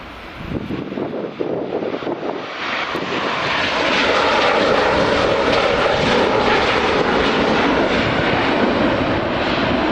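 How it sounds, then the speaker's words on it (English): A Ryanair airliner touches down on runway 24 at Edinburgh Airport on a summer evening. Its loud, steady engine roar swells and holds throughout, with wind buffeting the microphone. "we'll pan back to the Ryanair that's just about to touch down"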